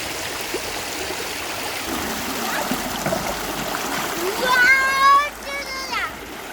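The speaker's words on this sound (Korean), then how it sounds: "잠깐 시원한 물소리 들으시면서 발을 계곡물에 담그는 상상 한 번씩들 해보세요" A cool mountain valley stream in summer rushes and splashes steadily over rocks nearby, a broad continuous wash of water, with voices, including a child's, rising briefly over it near the end.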